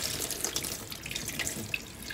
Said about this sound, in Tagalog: hugasan nyo yung mga gulay nyo sa running water